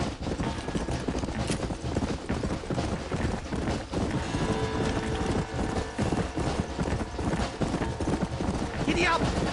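A horse gallops in Red Dead Redemption with rapid, rhythmic hoofbeats close up, a brief whinny near the end, and a player talking over it.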